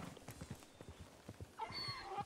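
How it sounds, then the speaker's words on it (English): A Mustang in the video game Red Dead Redemption 2 trots along with soft, steady hoofbeats, then lets out a short whinny near the end, all faint and at a moderate distance. "he's riding the same horse that he always rides, which is that Mustang"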